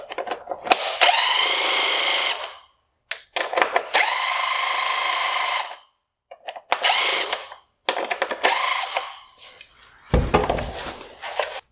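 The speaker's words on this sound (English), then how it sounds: "I will turn both of the 5/16 adjusting bolts to the left as far as they will go." Power tool driving the 5/16 adjusting bolts on a 2016-2018 Lexus ES350 LED headlight during disassembly: several loud whirring bursts of a few seconds each, separated by brief pauses, with a final short ratcheting rattle.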